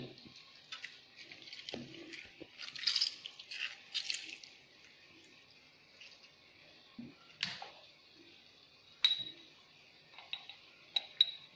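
Quiet wet squishing as half a lemon is squeezed, with scattered small drips and ticks, irregular and close, in an otherwise hushed kitchen.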